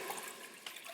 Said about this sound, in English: to the Instant Pot right away, I'm just gonna add some water